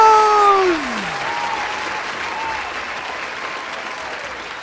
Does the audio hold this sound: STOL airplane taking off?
no